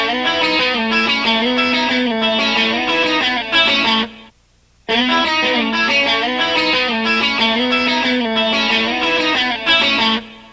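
An intro lick plays on electric guitar with a slightly overdriven tone, chorus added and the volume rolled back a little, two bright melodic phrases with a brief break between them, close and loud.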